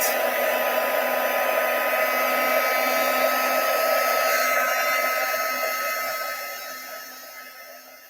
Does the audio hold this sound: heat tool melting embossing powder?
yes